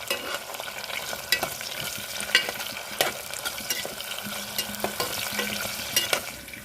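Chopped onions stirred and lightly fried in a pan for papaya pulao, a steady soft sizzle broken by repeated scrapes and clacks of a spoon, close and alone with no talk.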